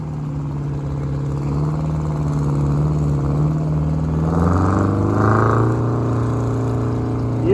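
Oliver and GM tractors, with a Chamberlain Super 90 nearby, rumble past in a steam rally parade at Lake Goldsmith, their engines making a steady low throb that lifts in pitch as one revs up; nobody speaks.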